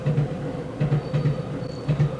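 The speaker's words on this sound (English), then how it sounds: "That's the train." A train passes near a hotel beside a station in Akihabara, Tokyo, giving a low rumble with repeated rhythmic clacks from wheels over rail joints, steady and fairly close throughout.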